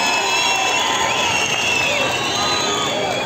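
Large outdoor festival crowd in a town square at the Sorgun summer festival, cheering and clapping in a loud, dense, continuous roar with shouts and whoops mixed in, no pauses.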